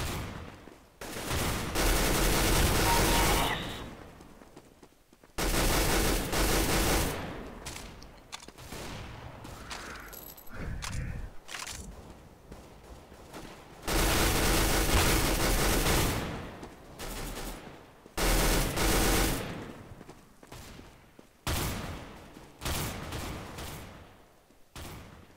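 Bursts of gunfire from Counter-Strike: Global Offensive, played offline against bots, with loud dense volleys that come in several separate waves and short quieter gaps between them.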